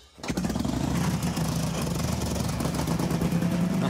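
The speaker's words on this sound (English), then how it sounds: "When you hear that engine, that big twin, it comes alive." A Harley-Davidson Knucklehead big-twin motorcycle engine starts and runs steadily, with a loud, continuous, lumpy rumble that carries to the end.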